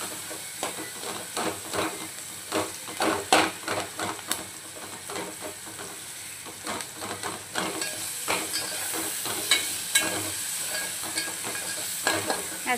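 Masala for Kolhapuri chicken sautéing in a pan, a continuous sizzle punctuated by repeated scraping strokes of a spatula, close and fairly loud, with no voices.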